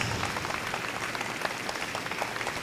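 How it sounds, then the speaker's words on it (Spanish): A church congregation applauds steadily, dense clapping from many hands filling the room evenly and continuously without a break or any voices over it. "Denle un aplauso a la Santísima Madre"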